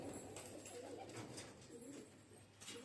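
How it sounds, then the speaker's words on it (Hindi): Karanja-breed pigeons with white tails and blue plumage coo softly and repeatedly against steady background noise. "जानदार कबूतर है।"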